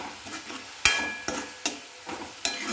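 Onions salted and sautéing in a pan give a soft, quiet sizzle, punctuated by about five distinct stirring scrapes at an uneven pace, with no one talking.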